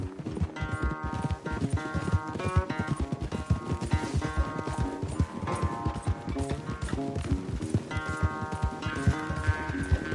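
A horse gallops in the video game Red Dead Redemption 2, with rapid, rhythmic hoofbeats close and loud throughout over a bed of steady game music.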